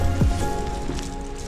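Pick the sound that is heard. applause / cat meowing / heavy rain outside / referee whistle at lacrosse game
heavy rain outside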